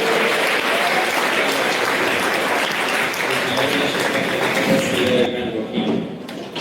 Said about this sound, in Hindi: भरपूर तालियों के साथ सैयद अहसन सर का इस्तकबाल करें।